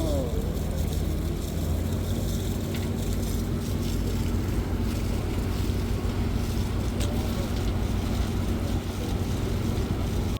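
A cruise boat on Loch Lomond rumbles steadily under wind buffeting the microphone, a constant loud drone with no break.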